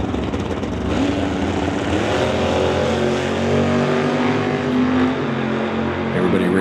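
A 427 cubic inch Chevy II drag car makes a test run, its engine a loud, steady roar that holds through the whole stretch with a rising tone partway, while a commentator talks over it.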